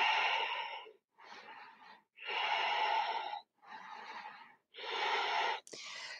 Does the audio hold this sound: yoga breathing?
yes